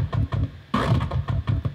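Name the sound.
FM8 growl synth patch without the Wow effect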